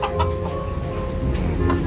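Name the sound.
labuyo (red junglefowl) chickens clucking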